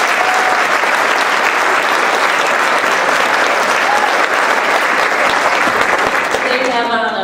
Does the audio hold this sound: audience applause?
yes